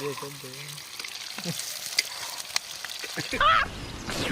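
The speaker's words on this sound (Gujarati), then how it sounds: "આ ડુંગળી તળાઈ ગઈ છે" Whole onions crackle and sizzle in hot oil with a few sharp pops and clinks, while people talk over the cooking.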